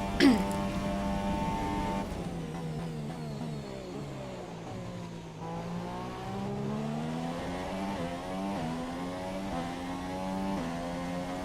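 A Renault Formula 1 car in the F1 2017 video game runs a qualifying lap at the Chinese circuit. Its high-pitched engine whine climbs and drops through rapid gear changes and stays steady and fairly quiet throughout.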